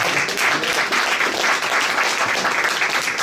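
An audience bursts into dense, continuous applause, many hands clapping close and loud in an even wash with no voices standing out.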